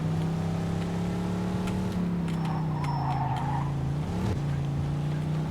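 Car in Mafia 2 driving, a steady engine drone holding one pitch with a brief dip and tire squeal around the middle, continuous and fairly close.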